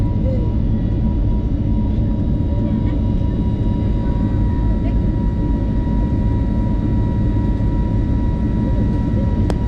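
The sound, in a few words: airplane taking off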